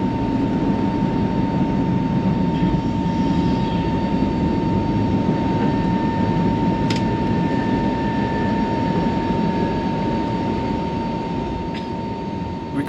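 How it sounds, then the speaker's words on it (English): Steady, loud, continuous roar of a Vistara jet airliner on the runway at Colombo for flight UK 132, heard from inside the cabin with a sustained engine drone and no breaks. "We also then made our way to the runway for an absolute on-time departure."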